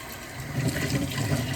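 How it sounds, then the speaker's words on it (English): Tap water runs steadily while celery is rinsed in a kitchen, a continuous close splashing wash with no voices over it. "sorry if you can hear the water. I'm trying to rinse the celery."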